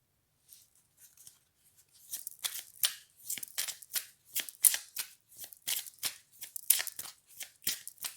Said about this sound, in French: à peine battu les cartes, elles sont déjà tombées.